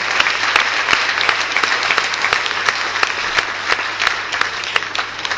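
Crowd applause at an Alleanza Nazionale political rally in Verona, sustained dense clapping from a large audience, steady and even throughout with a few sharper individual claps standing out.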